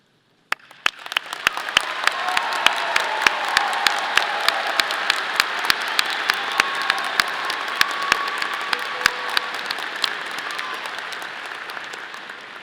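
A large commencement crowd applauds honor society graduates, the clapping starting abruptly, swelling into a sustained roar with sharp individual claps standing out close by, and holding steady for over ten seconds without speech.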